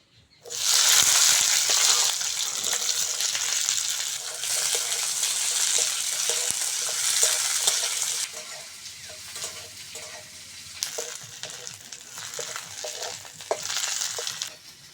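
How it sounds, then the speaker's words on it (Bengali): Onion, garlic and green chilli fry in oil with a loud, close, bubbling sizzle that eases partway through and then swells again, with occasional stirring scrapes and no voices. "এবার ভেজে নেবো পেঁয়াজ রসুন আর কাঁচা লঙ্কাটা"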